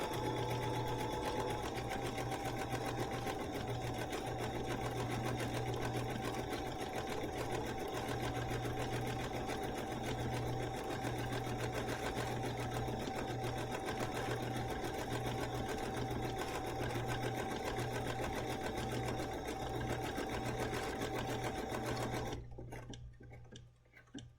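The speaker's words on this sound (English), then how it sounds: "So I'm going to start sewing." A Bernina sewing machine runs steadily at speed for over twenty seconds, a continuous close mechanical whir with a rapid needle chatter, then stops abruptly near the end.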